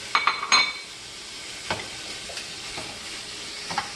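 Bacon fries in a pan for a carbonara, giving a steady soft sizzle with a few louder clinks and scrapes of stirring near the start and scattered light crackles after.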